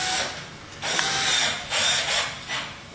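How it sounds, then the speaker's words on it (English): A power drill drives small screws into an aluminum railing bracket, whirring loudly and close in short bursts that rise and fall. "Just run the screw in"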